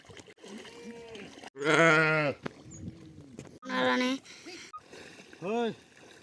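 Sheep bleating near a well, three loud wavering bleats rising above a quieter background of shuffling and water sounds, with a voice speaking in between.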